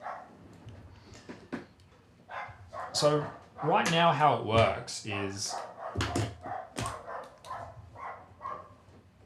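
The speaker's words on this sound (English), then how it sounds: "you got a dog barking, and that helps to do software development" A dog barks repeatedly in the background while someone talks steadily over it in a home office during software development, the barks sharp but partly masked by his voice.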